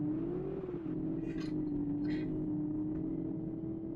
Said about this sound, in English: That's the traction control trying to keep me in check on the grass.